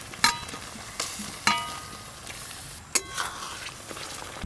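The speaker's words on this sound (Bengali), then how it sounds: "এবার পনিরগুলো দিয়ে দেবো, কেটে রাখা পনির" Paneer pieces go into a simmering butter masala gravy in a pan, with a soft sizzle broken by several sharp spoon-and-pan knocks and stirring scrapes, close by, with no voices.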